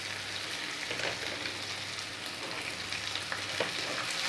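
Masoor dal and ginger sizzling as they go into a hot pan, a continuous close crackle and hiss with soft stirring clatter, steady and fairly quiet with no talking.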